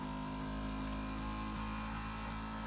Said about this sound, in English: the sound of the electric motors that power your seat